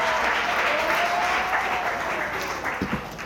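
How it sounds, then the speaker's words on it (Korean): Audience applause at a Korean book talk on Kierkegaard, a steady wash of clapping from a seated crowd that holds evenly before tapering slightly near the end. "박수!"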